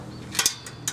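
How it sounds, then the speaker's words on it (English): A socket wrench works the rear wheel nut of a mamachari city bicycle, giving a few quick sharp ratcheting clicks in close succession, close up with no talk. "Let's get the socket wrench."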